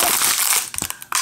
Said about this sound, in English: You have a hard time opening those wrappers.